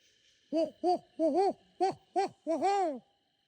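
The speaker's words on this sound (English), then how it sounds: "I don't think a hoot owl would be coming towards these flashlights" An owl hoots in a rhythmic series of about seven calls, the last one drawn out and wavering, clear and fairly close against a quiet night.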